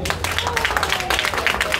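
An audience of women applauds together at a daytime rally, dense steady clapping with crowd noise running loud and unbroken throughout.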